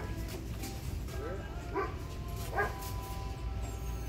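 A dog barks in a few short, sharp bursts, about two clear yips spaced apart, against steady indoor background noise while someone shops for thrift items nearby.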